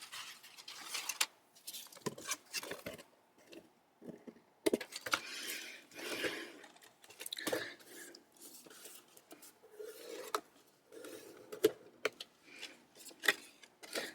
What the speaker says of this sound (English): We will cut the excess.